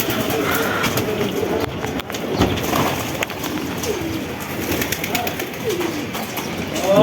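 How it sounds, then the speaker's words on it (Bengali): Domestic pigeons coo in a rooftop loft, low throaty calls repeating over a steady background hum, moderately near and fairly loud without talk. "এই যে একটা কবুতর।"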